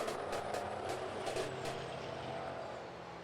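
Big rig racing trucks run at South Sound Speedway, a steady low engine drone with brief periodic clatters early on, fairly faint and fading slightly toward the end.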